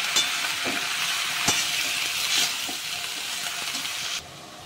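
Spinach fries lightly in a pan with a steady, even sizzle throughout, broken by a few soft stirring clinks, before the hiss drops noticeably quieter near the end.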